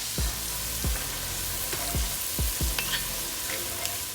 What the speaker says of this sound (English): So I've been sauteing these onions for about 8 minutes.